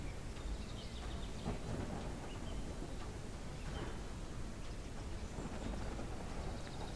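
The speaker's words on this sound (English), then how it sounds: "Terrible stormy weather." Heavy thunderstorm in the RPG town simulator A Hero's Rest: steady loud rain hiss with low thunder rumbles rolling underneath, continuous across the whole stretch with no voices.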